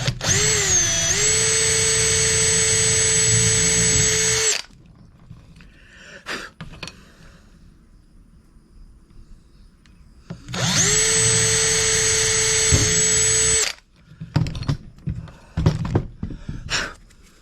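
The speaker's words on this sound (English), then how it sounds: "I'm going to drill my holes and make sure they are good to go" A power drill whines steadily for several seconds drilling holes in a Honda Helix scooter part, stops, then runs again in a second long burst, with scattered clicks and handling noises between runs.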